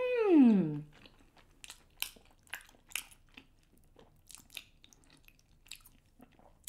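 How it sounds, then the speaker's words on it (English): Chewy, spicy black bean rice cake being eaten, a series of soft wet bites and chewing smacks, close and quiet, after a short sliding vocal tone at the start. "This rice cake is super chewy. Can you guys hear that?"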